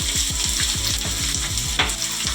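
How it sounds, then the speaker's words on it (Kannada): Chopped onion and fennel seeds fry in a pan for an egg gojju, a loud continuous sizzle with crackling bursts, heard close with no talking. "ಒಂದು ದೊಡ್ಡ ಗೆಡ್ಡೆಯ ಈರುಳ್ಳಿನ ಸಣ್ಣದಾಗಿ ಕಟ್ ಮಾಡಿದ್ದೀನಿ, ಅದನ್ನು ಕೂಡ ಹಾಕೋತಾ ಇದ್ದೀನಿ."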